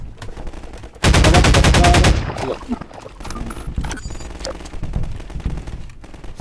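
Automatic gunfire in the video game Half-Life 2 rips out in a loud, rapid burst lasting about a second, followed by quieter game sounds and a voice talking over the action.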